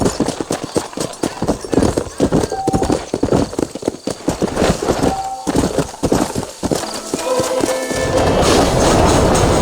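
Horse hooves clip-clop steadily on a trail out of town in Red Dead Redemption, a loud rhythmic trot heard alongside spoken dialogue.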